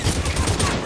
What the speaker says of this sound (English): I'm gonna have to start shooting these guys.